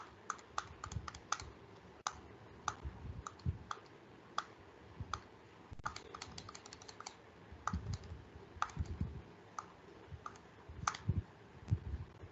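Calculator keys are pressed again and again at a steady pace, close, light clicks repeating a division many times, with faint background noise.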